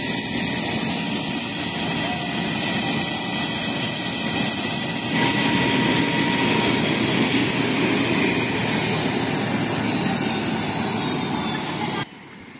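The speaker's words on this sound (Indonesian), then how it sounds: "helikopter dari Kementerian Kesihatan Malaysia juga turut mendarat" A Ministry of Health Malaysia helicopter landing at Long Liao, a Penan village, gives a loud, steady turbine whine and rotor roar that holds throughout, with a falling whine near the end before the level drops away.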